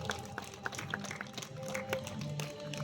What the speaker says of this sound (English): that's a big round of applause for Luna and Zana